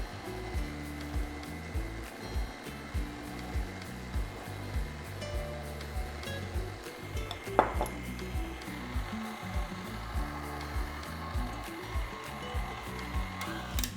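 An electric mixer runs on low speed through banana cake batter as dry ingredients and buttermilk are added, giving a steady motor whir with a soft, regular pulsing and a brief clank partway through.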